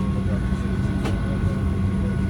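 Steady airplane cabin noise aboard an Ahmedabad to Mumbai flight: a constant loud drone and hiss with a faint tonal hum, unbroken from start to finish.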